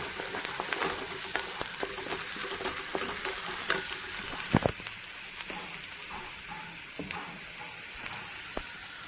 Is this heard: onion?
yes